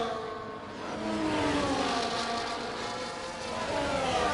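Race cars overtaking in a racing game produce a continuous engine drone whose pitch rises and falls as the cars pass, steady in loudness with no voices.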